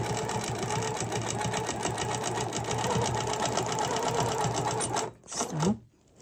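A sewing machine runs steadily at close range, stitching a large quilted feather with a Quiltoff feather template ruler, a continuous fast mechanical whir that stops abruptly near the end.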